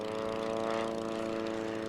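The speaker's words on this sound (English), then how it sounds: "The Nieuports that you see above us are representative of the single-seat version" A French Nieuport World War I single-seat biplane passes overhead at an air show, its propeller engine a steady, buzzing drone with strong harmonic hum, moderately loud and unbroken.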